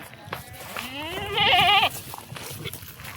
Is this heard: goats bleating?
yes